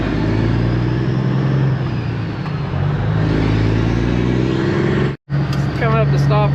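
A loaded truck rolls through town traffic with a steady, loud engine rumble and road noise, briefly cut off near the end before resuming, while people talk over it.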